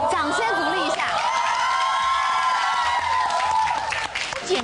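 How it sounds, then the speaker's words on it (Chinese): Studio audience applause fills the room as a continuous dense patter of clapping, heard under a sustained voice and scattered cheers. "掌声鼓励一下。"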